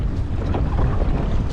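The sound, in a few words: strong wind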